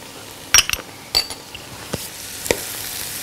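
A lamb shank with spices, salt and pepper is stirred and turned in a pot, giving a few sharp clinks and scrapes of a utensil against metal, spaced out over faint sizzling background.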